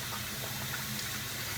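Water runs steadily into a pot as Japanese rice is rinsed by hand, a continuous close splashing and trickling with no talk over it.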